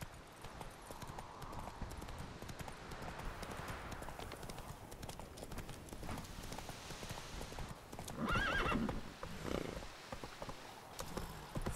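Geralt's horse Roach gallops in The Witcher 3, a rapid continuous patter of hoofbeats, joined near the end by a loud whinny.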